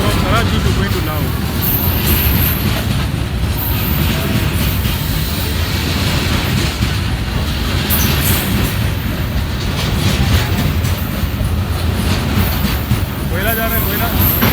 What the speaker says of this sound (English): right now is cargo train again coming